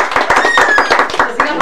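Quick burst of close handclapping for doña Hilda, sharp rhythmic claps with a voice over them, loud and brief.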